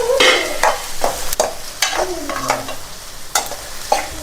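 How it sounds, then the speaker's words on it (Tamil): Onions sauté over high flame in a pan for chicken curry, with loud close sizzling broken by repeated sharp scraping strokes of a spoon stirring them at an uneven pace, no talking. "வெங்காயம் போட்டு நல்லா வதக்கணும்."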